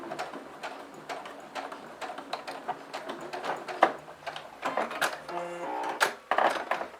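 A sewing machine topstitches fabric 5 mm from the edge with a lengthened 3.5 stitch, giving a fast rhythmic clatter of needle strokes that speeds up and slows down, close and moderately loud with no talk.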